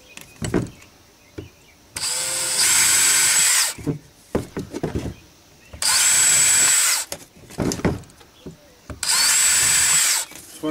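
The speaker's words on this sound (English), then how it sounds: "Want to try to drill straight down." A power drill whirs loudly in three bursts of about two seconds, biting into wood while building a turkey feeder, with clatter and shuffling between the runs.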